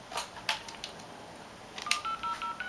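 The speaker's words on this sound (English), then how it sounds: "So I'm calling them again." Phone dialing tones as a call is placed to a bank, a handful of short keypad beeps at uneven intervals followed by a steady tone, faint and with no talk.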